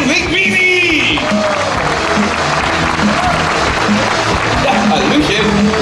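A live audience at the Crazy Cops New York stunt show in Movie Park Germany applauds loudly and steadily throughout, a dense wall of clapping with crowd noise and scattered vocal sounds over it.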